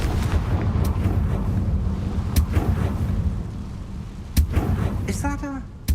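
An explosive Confringo spell in Hogwarts Legacy erupts over a low rumbling game soundscape, heard as a few sharp bursts and booms spread across the passage, with a spoken voice in the mix.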